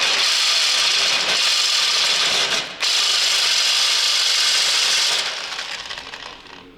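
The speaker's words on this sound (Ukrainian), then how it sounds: "Тому зараз буду пробувати пилкою різати." Steady, continuous rasping of a hand saw cutting through metal on a Nissan X-Trail engine repair, loud and close, with one brief pause before the strokes resume and fade slightly.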